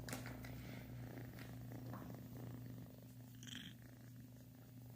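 A brown kitten purring softly and steadily, close and quiet, with a low continuous hum and faint rustles.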